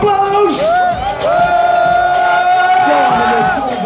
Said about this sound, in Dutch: geef ze een daverend applaus!